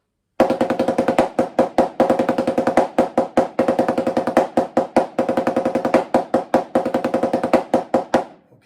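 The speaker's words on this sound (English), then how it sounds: "It just starts with the 9-stroke roll on the even counts." Snare drum nine-stroke rolls starting on even counts, each a quick buzzing burst of double bounces ending in an accent, repeated in a steady pulse for about eight seconds, close and loud with no talking.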